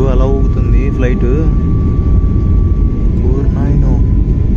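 Loud, steady cabin roar fills a passenger flight from Kuala Lumpur to Langkawi during turbulence, a constant low rumble with people talking over it.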